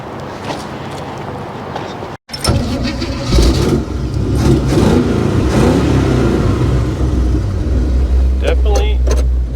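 A classic car's engine starts and revs hard while it spins donuts in winter snow, a loud, rough exhaust roaring steadily close by with brief pauses and rising bursts.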